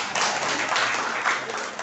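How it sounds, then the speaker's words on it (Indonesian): An audience at a formal organization gathering claps, a brief burst of dense, fairly loud applause from many hands. "tepuk buat beliau"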